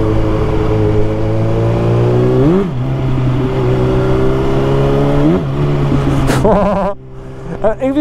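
Yamaha motorcycle engine with a slipping clutch, idling loud and close, then sharp bursts of throttle send the revs howling upward several times before a final quick blip and drop.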